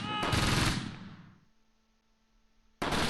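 Machine gun fire in the Close Combat video game, a loud close burst of rapid shots that fades into a quiet tail before another abrupt burst starts at the end.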